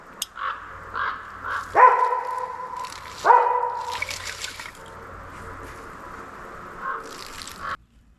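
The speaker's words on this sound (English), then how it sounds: "They're one of Kiro's favorite things to bark at." A dog gives two sharp barks outdoors while ravens caw in short calls in between, with quiet gaps.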